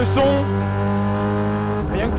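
A Mazda IMSA prototype race car with a rotary engine drones loudly with a steady buzzing, strongly harmonic tone that rises slightly, close and continuous throughout.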